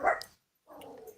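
A man imitates a distant dog barking with his voice, giving two short bark-like bursts separated by a brief silence, heard alone without other talk.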